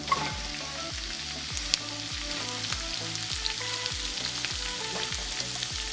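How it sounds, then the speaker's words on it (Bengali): Butternut squash pieces sizzle in a pan of oil with a bay leaf, a steady frying hiss overlaid by repeated rhythmic spatula scrapes and a sharp click, near and without talking. "এই পর্যায়ে আমি বাটার স্কোয়াশটা দিয়ে দিচ্ছি"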